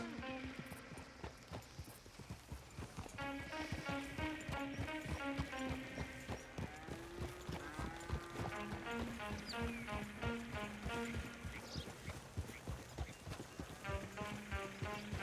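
Horse hooves clop in a steady, rapid rhythm as a rider travels in Red Dead Redemption 2, over continuous game music with no speech.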